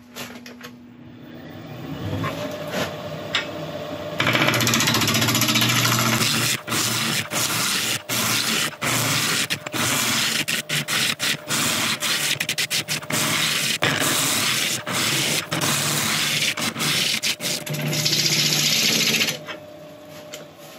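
A lathe spins yew wood while a tool cuts it, giving a loud, steady whirring hiss with rapid rhythmic ticks, preceded and followed by quieter machine hum.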